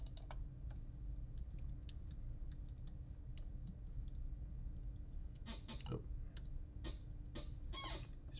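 Keys tapped on a computer keyboard while naming an object in Blender: scattered quiet clicks in the first half, then denser, louder bursts of keystrokes toward the end over a steady low room hum.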